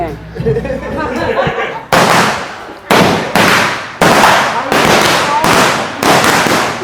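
Firecrackers burst loudly one after another at a birthday party, about seven sharp bangs at uneven intervals, each trailing off; voices murmur briefly before the first bang.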